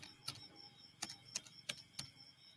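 Quiet, crisp clicks of keys pressed on a computer keyboard while entering a password, five or six separate taps at an uneven pace with short pauses between them, close and alone with no talking.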